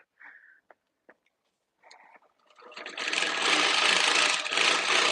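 A longarm quilting machine stitching a quilt starts after a few soft handling clicks and taps, then runs as a steady, loud whirring buzz for the final couple of seconds.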